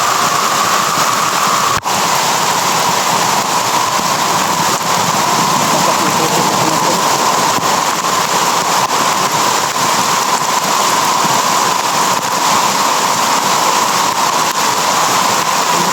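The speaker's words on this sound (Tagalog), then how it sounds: "Oh, lakas ng ulan mga tolo." Heavy rain pouring steadily and loudly, a dense continuous hiss with no voices.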